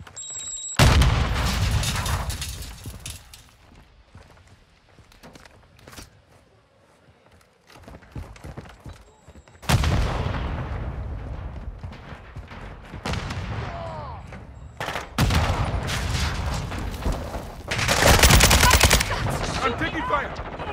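Bursts of automatic gunfire and heavy explosive booms from Call of Duty: Modern Warfare II combat, loud and close, coming in several dense volleys separated by quieter gaps with some background shouting.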